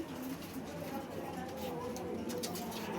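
Pigeons at a pigeon market give soft, low cooing under a steady bustle of crowd and voices nearby, with people talking throughout.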